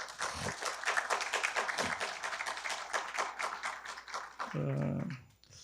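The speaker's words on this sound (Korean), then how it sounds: "두 분께 큰 박수를 보내주시기 바랍니다" Audience applause at a university global strategy seminar on North Korean nukes and the Korea-US alliance, welcoming two professors: a dense, steady patter of many hands clapping for several seconds before tapering off near the end.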